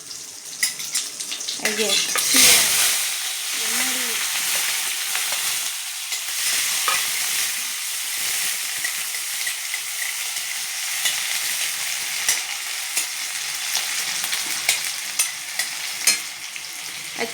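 Cumin seeds tempering in hot oil give a steady frying sizzle that runs the whole way through, with a brief spoken bit near the start and stirring noises over the hiss.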